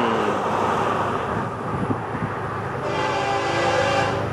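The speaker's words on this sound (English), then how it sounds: "This one is the Hot Train, FEC101" Florida East Coast train FEC101 rumbles past with a steady roar of wheels and cars, a sustained horn blast sounding over the rolling noise, loud and fairly close throughout.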